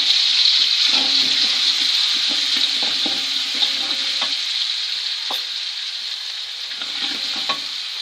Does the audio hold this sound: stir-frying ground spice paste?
yes